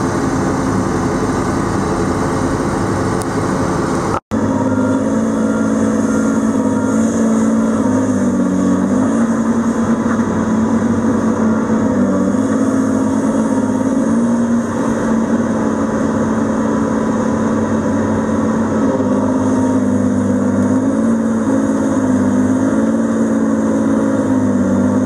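A Tigercat 635D logging machine works in mud, its diesel engine droning loud and steady throughout with a low, rumbling hum that swells slightly under load, broken once by a brief sharp click near the start.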